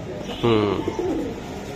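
Giribaz high-flying racing pigeons in an old Dhaka loft give one low, rolling coo, close and clear, with faint background noise and no talk.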